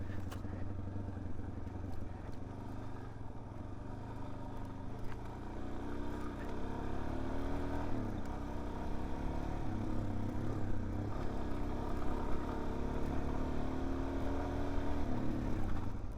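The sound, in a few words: Suzuki DRZ 400S motorcycle riding on a wooded trail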